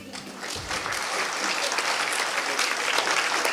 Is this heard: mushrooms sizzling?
no